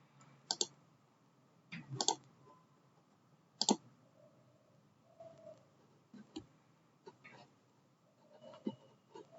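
Mouse clicks on a computer, sharp and close, coming in a few spaced single and double clicks over a quiet room with faint background murmur.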